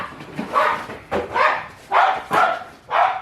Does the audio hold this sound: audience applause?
no